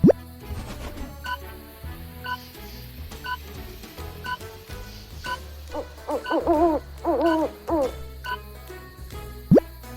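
An owl hoots in a few soft, low calls among plopping, croaking sound effects, with a brief rising swoop near the end.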